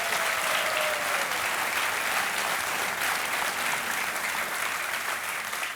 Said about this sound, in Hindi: इसके लिए हम आपका अभिनंदन करते हैं और तालियों के साथ स्वागत।